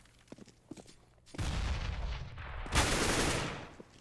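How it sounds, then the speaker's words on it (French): Gunfire from a professional Counter-Strike match on the Mirage map comes in as a dense, loud burst of rapid shots after a quiet opening, then rises again into a second sustained volley near the end. "puisqu'on va tomber instantanément sous les balles de Forest."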